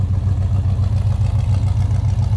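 A 1970 Chevrolet Monte Carlo with a crate 350 V8 idles close by, giving a steady, deep, even burble with a regular low pulse and no talking over it.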